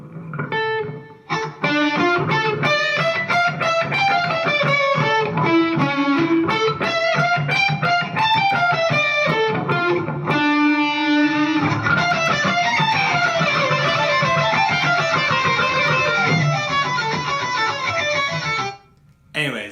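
Slowed music playback at 70% speed from an audio-stretch practice tool, a dense run of melodic notes playing continuously and loudly with a brief dip near the start and a drop just before the end.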